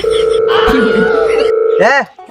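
A loud, steady electronic phone tone holds for about two seconds, then warbling rising-and-falling chirps follow before it cuts off.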